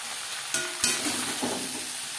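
Potatoes and ridge gourd stirred in a frying pan over high to medium flame, a loud continuous sizzle with two sharp scraping strokes of the spatula near the start and softer stirring after.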